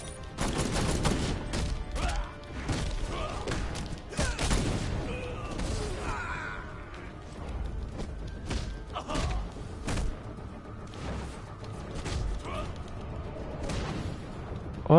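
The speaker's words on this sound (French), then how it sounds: "se débarrasser des ennemis avec le flingue, ça va plus vite." Gunfire from a gun in a Batman video game, with bursts of shots and heavy thuds repeating through the scene, loud and close, mixed with game music and effects.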